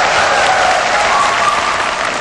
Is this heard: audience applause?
yes